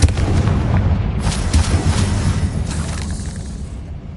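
Confringo, a blasting spell cast in a Harry Potter video game, goes off as a loud, close explosive boom with booming bursts and a rumbling tail that slowly fades.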